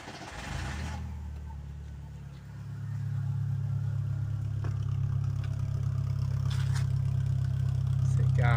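A turbocharged VW Gol G3 1.0 16-valve engine runs close by with a steady, deep idle drone that swells louder after a couple of seconds and then holds.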